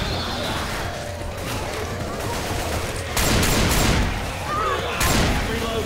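Left 4 Dead 2 combat shotgun firing in the Dark Carnival campaign, heavy rapid blasts in loud clusters over continuous in-game gunfire and chaos.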